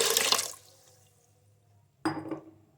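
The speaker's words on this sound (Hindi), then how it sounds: "गोश्त डाल के हम इसमें डाल देंगे 1 लीटर पानी, क्योंकि हमें इसकी यखनी भी चाहिए।" Water is poured into a pressure cooker holding meat in two bursts, a bright splashing gush that fades, a pause of quiet, then a second pour, close and alone.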